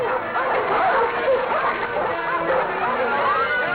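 Dogs bark and yip excitedly amid a noisy, crowded background, the barks overlapping in a steady din.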